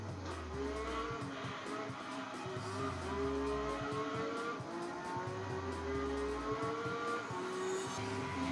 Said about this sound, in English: from the outside this Lotus Elise GT1 with this racing muffler kinda sounds like Nissan GTR